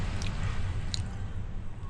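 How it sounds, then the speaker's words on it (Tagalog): Ocean waves crashing on a cool shore on the north Luzon coast near Pagudpud, a steady broad wash of surf with rumble and hiss, fairly loud and continuous, with occasional small splashes. "Narinig niyo ba yung hampas ng alon?"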